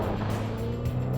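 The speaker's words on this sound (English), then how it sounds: "Launch control is going to maximize power output, minimize wheel spin." A 2024 Chevy Colorado ZR2 Bison pickup launches under launch control, its engine giving a steady, dense low roar with pulsing surges, fairly close and without speech.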